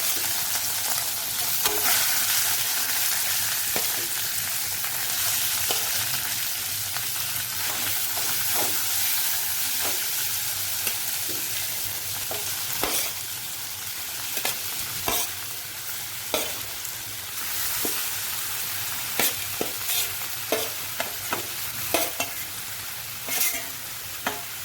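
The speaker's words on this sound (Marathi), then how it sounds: "हा चांगलासा तेलामध्ये परतून घ्यायचा आहे." Young jackfruit is stir-fried Konkani-style in oil with garlic paste and red chilli masala, giving a steady close sizzle throughout, punctuated by frequent sharp clicks and scrapes from stirring, with no talking.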